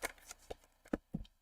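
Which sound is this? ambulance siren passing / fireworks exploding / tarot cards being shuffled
tarot cards being shuffled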